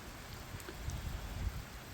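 Steady rain falls during a very late soybean harvest, a soft, continuous patter with low rumbling underneath, heard alone and fairly faint with no voices.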